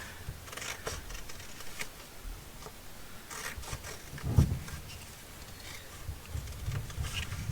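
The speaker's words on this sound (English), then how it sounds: "Now we'll cut these out" Scissors snip through paper ephemera pieces, a sparse series of quiet crisp cuts at uneven intervals close by in a quiet room, with one brief louder knock midway.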